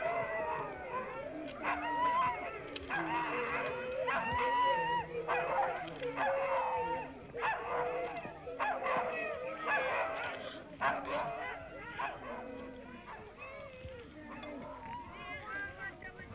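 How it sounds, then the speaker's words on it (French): Greenland polar sled dogs give off a chorus of barks, howls and whimpers, repeated calls rising and falling at close range over several seconds, with a voice narrating over them. "Les chiens polaires, des fauves perpétuellement affamés."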